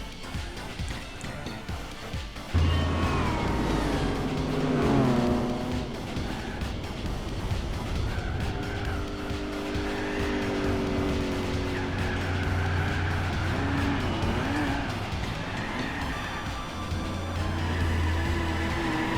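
Buick Special race car in Gran Turismo 4 spinning its wheels in fourth gear at about 70 mph, a loud steady engine drone with rising and falling tones and tire squeal, continuous after a sudden start, with occasional talk over it.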